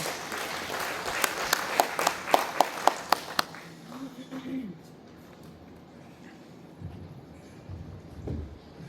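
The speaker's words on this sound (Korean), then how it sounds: "무대 위로 올라가실 때 큰 박수로 환영해 주십시오" An audience at a literary award ceremony claps to welcome a speaker onto the stage. Distinct claps ring out for about three seconds, then fade into quieter room noise and murmuring voices.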